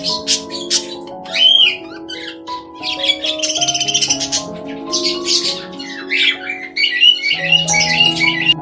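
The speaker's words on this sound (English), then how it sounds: "Budgerigar." A budgerigar chatters and squawks in a busy run of warbling, whistled notes and harsh chirps, close and fairly loud, with a steady tonal hum underneath.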